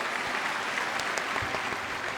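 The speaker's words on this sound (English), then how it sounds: "Clap, chat. Clap for Lyney" Continuous clapping from a crowd in Genshin Impact, fairly quiet and even, sustained without pause over a soft background during a magic opera performance.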